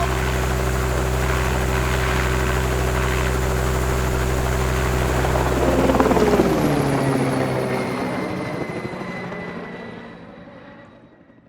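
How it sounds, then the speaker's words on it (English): A helicopter rotor and turbine drone loudly and steadily up close, with no speech over it, then the rising engine sound thins and fades away toward the end. "Can you start up the helicopter?"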